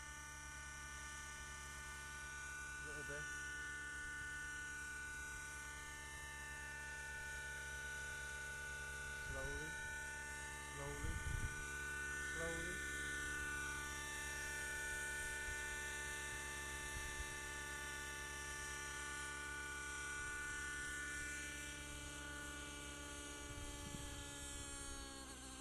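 A Thunder Tiger Raptor 50 nitro RC helicopter flies on its maiden flight, a steady high rotor-and-engine whine with shifting pitch as it moves around, nearby and continuous throughout.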